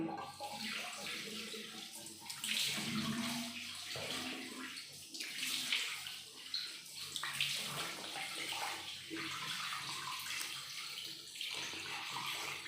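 Running water splashes steadily as a face is rinsed clean after cleansing, a continuous close wash with faint handling noises and no talking.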